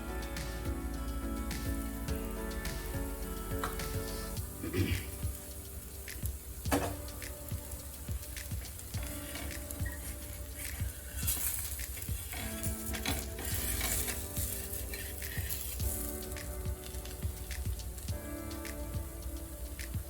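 Cucumber pancake batter sizzles and crackles steadily in hot oil in a pan, a continuous close frying hiss with scattered pops throughout, no talking.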